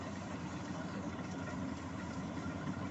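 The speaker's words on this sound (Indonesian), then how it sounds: "Dengan adanya penggunaan mesin perontok padi, memudahkan petani dalam proses pemanenan." A rice threshing machine engine runs during the paddy harvest, giving a steady, unbroken drone with a dense low rumble that holds the same level throughout.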